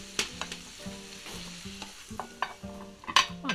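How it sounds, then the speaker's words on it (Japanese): Boiled octopus and parsley being lightly stir-fried in a pan, with a soft steady sizzle under repeated scraping and tapping strokes of a utensil, close and fairly quiet, with no talking. "さらに軽く炒めて合わせていきます。"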